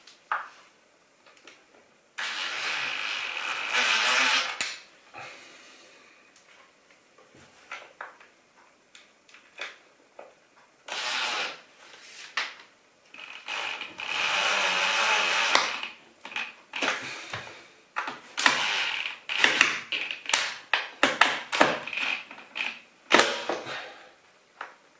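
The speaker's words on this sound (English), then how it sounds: "Got to be a little bit careful when you're using an impact driver, particularly with plasterboard and such a small screw" Small size 4 screws are driven into plasterboard with an impact driver while fitting roller blinds, heard as several bursts of rapid rattling hammering separated by pauses, close and fairly loud.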